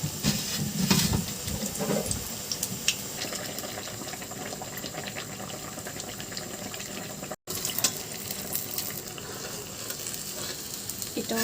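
Ash gourd pocket snacks frying in hot oil, giving a steady, close sizzle and bubbling that runs the whole time with only a momentary break, no voices.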